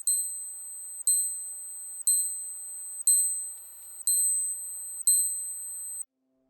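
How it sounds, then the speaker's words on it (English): A Seiko GMT wristwatch alarm chimes in six evenly spaced bright electronic beep bursts, one per second, each fading slightly, close and clear against near silence before stopping. "And the alarm will go off. And it's a very pleasant, sweet alarm."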